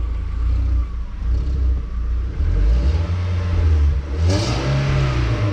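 VW Bora wagon with its muffler removed, the engine revving repeatedly in loud, close, raspy surges, with a sharp higher burst near the end.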